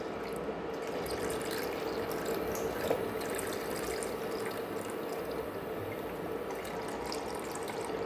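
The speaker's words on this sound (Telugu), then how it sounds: "ఆ ప్యాన్లో మొత్తం 1/2 లీటర్ పాలు పోసేసుకోండి" Half a litre of milk poured into a pan: a continuous, gentle liquid pour with light splashing at steady level, close and without talk.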